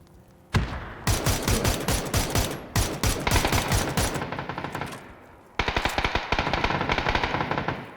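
Automatic FAMAS rifle fire in the shooter game PUBG, loud rapid bursts of gunshots in three long volleys with brief pauses between, dense and continuous, no voices over it.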